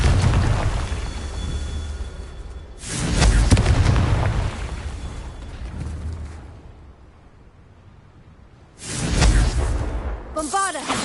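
Confringo fire spell explosions in a Hogwarts video game, two heavy booming blasts spaced several seconds apart over rumbling game ambience, with a voice speaking.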